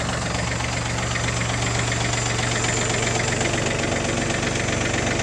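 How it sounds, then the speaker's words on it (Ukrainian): A tractor engine idling smoothly and quietly, a constant close rumble with a steady low throb and no break for the whole stretch, with no voices. "рівненько, тихенько працює. Ну, Трактор взагалі ідеальний."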